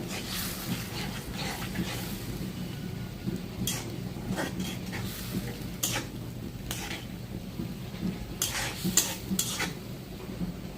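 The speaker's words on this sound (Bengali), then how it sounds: "এটাকে আমি ভালো করে ভাজা ভাজা করব" Cumin paste and tomato paste fry in a pan for a fish curry, a steady low sizzle carrying through with repeated scraping and clinking of a utensil stirring against the pan, close and fairly loud with no talking.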